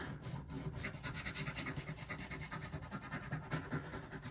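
A bone folder rubs a rub-on transfer onto card, quick repeated rasping strokes in a steady back-and-forth rhythm, close and quiet with no talking.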